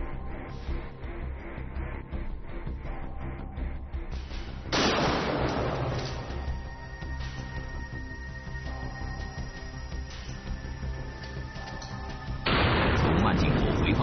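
A gunshot fired from about ten metres through a pine board at targets behind it, a sharp loud blast followed by ringing debris, then a second burst near the end over a steady background of music and talk.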